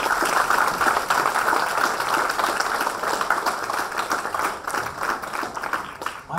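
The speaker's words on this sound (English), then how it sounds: "Please give them a big round of applause." Audience applause at RV University honoring visitors from the Ramakrishna Order, a steady wash of clapping from a large hall that continues at moderate loudness throughout.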